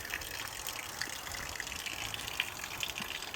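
Water gushing steadily out of the overflow pipe of a 1930 cast iron toilet cistern, a continuous close splashing rush with no talk.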